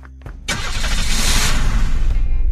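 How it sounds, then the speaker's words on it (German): A police car engine in the video game Unturned cranks briefly, then catches and settles into a loud, steady, rumbling idle that runs on alone to the end. "ich dachte, ich nehme mir mal das Polizeiauto"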